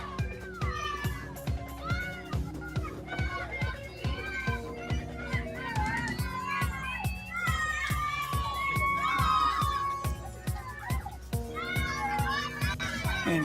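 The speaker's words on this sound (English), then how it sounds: "We got a good crowd of people here today" A crowd at a swim meet fills an echoing indoor pool area with loud, continuous chatter, shouting and cheers from children and adults, punctuated by regular rhythmic thumps.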